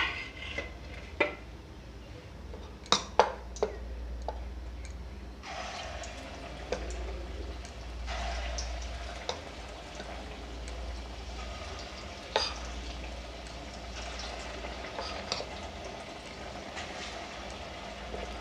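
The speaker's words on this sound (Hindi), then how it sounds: "तो इसी तरह से हम सारे पकौड़े को तल लेंगे एक एक करके" Masoor dal pakoras deep-frying in hot oil, batter dropped in one at a time with a spoon, giving a steady faint sizzle with a few sharp pops and clinks and a brighter burst of bubbling partway through.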